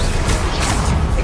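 Confringo blasting curse impact in Hogwarts Legacy, a loud dense burst of crashing, booming noise filling the whole short moment without pause.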